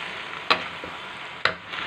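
Spicy macaroni pasta being stirred in a pan gives a steady soft sizzle, with two sharp scraping clicks of a spoon against the pan about a second apart.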